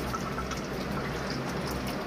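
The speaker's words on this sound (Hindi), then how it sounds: "थोड़ा सा पानी डाल देंगे हम" Water is poured into a pot of mutton korma, a steady splashing trickle that stays close and even throughout.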